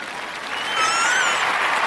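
Applause from a studio or podcast audience swells into steady clapping across the whole stretch, moderately loud and continuous, with no talk over it.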